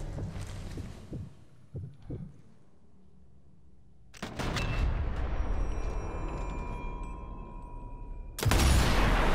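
Gunshots in the video game Sniper Elite 4: a few faint thuds early, then a loud blast around the midpoint followed by sustained rumbling, and a second heavy shot near the end.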